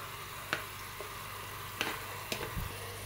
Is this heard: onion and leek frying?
yes